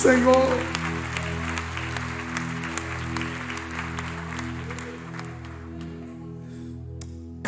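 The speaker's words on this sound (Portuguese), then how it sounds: "Quem crê nesta palavra, aplauda o nome do Senhor." A church congregation applauds in a broad, sustained wash of clapping layered over held musical tones. The clapping thins out toward the end.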